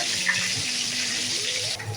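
Chopped green chillies frying in hot oil, a steady loud hiss and sizzle that holds evenly, then eases slightly near the end, close with no talk.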